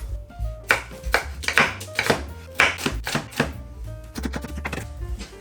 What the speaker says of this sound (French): Je vais alors la couper en frites.